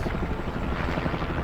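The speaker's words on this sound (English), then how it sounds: "This is police helicopter or military." A police or military helicopter passes overhead near Gaza, a steady, dense rotor rumble filling the scene at moderate distance with no talk.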